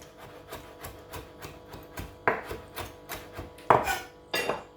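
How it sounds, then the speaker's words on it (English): A knife chopping parsley on a wooden board, evenly spaced close thuds in a steady rhythm with a few harder knocks toward the end, clear and without talk. "I'm just chopping some parsley."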